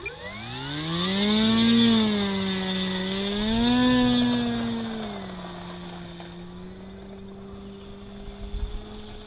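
Electric motor of an E-Flite Carbon-Z Cessna 150 RC plane taxiing on long grass whines up and down in two rising surges, then settles to a steadier lower hum, close and fairly loud.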